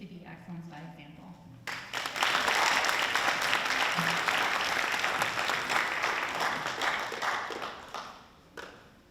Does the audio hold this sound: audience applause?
yes